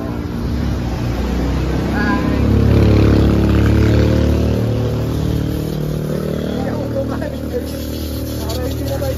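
Several motorcycles ride past outdoors, a steady loud engine drone that swells around the middle and then holds, with people talking underneath.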